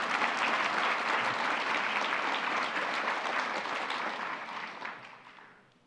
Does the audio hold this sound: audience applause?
yes